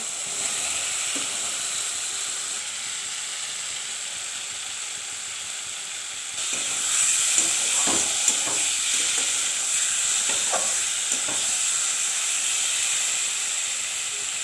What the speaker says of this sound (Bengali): মশলা কষানো হয়ে গেছে, এখন দিয়ে দিব ভেজে রাখা আলুগুলো